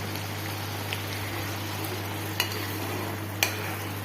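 Moringa leaves sizzling as they fry in homemade ghee, a steady close crackle under a constant low hum, with a few sharp pops standing out.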